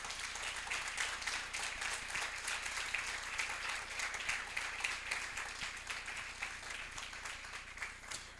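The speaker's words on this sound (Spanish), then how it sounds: "Dale un aplauso al Señor." A church congregation applauds during a worship service, steady dense clapping that carries on evenly throughout, heard at a distance and fairly faint.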